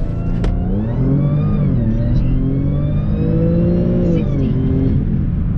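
Audi S4 launching from a standstill on a 0-60 run, loud engine roar rising smoothly in pitch through the gears, heard close from inside the car.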